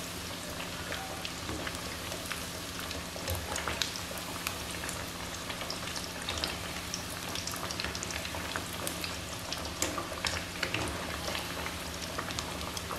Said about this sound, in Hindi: गोल्डन ब्राउन होने तक इन्हें फ्राई करते हैं।